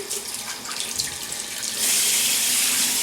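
Water runs from a tap into a sink to wet a face before shaving, a hissing stream that swells louder and fuller partway through and then holds steady, heard close with no talking.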